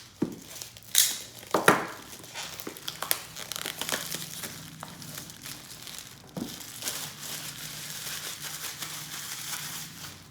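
Plastic and cardboard packaging of a Lenovo Smart Display 7 crinkle and crumple as it is opened, with sharp rustles early on and then steady, close, fairly quiet handling noise.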